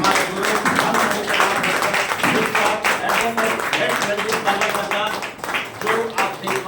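Audience clapping loudly at a live gathering in India, dense sustained applause with a steady wash of claps throughout, a voice speaking over it at times.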